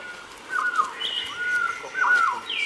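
Several birds call in a Colombian coffee plantation habitat, thin whistled notes and short chirps rising over a soft steady background, moderately near, with no talking.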